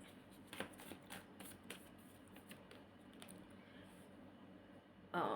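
Oracle cards are shuffled quietly for a love reading, giving a series of soft, rapid riffling and snapping bursts with a louder rustle at the end and no talk.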